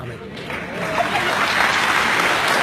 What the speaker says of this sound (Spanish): aplauso fuerte que se oiga para estos hermanos